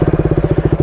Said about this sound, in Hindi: फिर आपको बाइक को स्टार्ट करना है